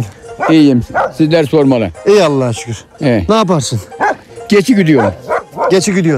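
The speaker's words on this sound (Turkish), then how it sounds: "bu köpek bize mi kızar böyle?" A dog barks and yips repeatedly at a village visit in the Bucak area of Turkey, the sound mixing with and partly masked by continuous close conversation between men.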